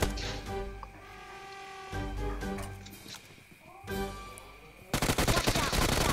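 Gunfire in the PUBG Mobile video game: dense automatic bursts and rapid shots over a steady hum of game sound, building to a fast, loud volley at the end.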